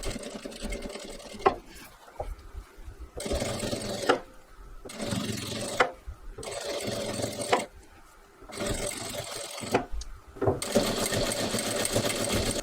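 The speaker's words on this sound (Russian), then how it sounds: "И пришиваем где-то в миллиметре от края, следя за тем, чтобы закрывался" A sewing machine stitches a neckline seam about a millimetre from the edge, running in several steady bursts separated by short pauses, close and clear with no talking.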